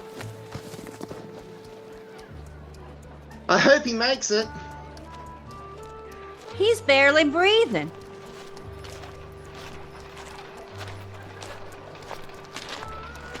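Horse hooves clip-clop at a steady rhythm as a sound effect in a 1940s western radio drama. The low plodding steps run under dramatic dialogue between two voices.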